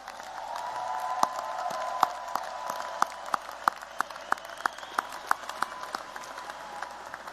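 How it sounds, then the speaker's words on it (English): Audience applause at a university engineering commencement ceremony, steady clapping from a large crowd in a hall with a few sharp individual claps standing out, sustained and moderately distant. "let's give everyone again a great round of applause"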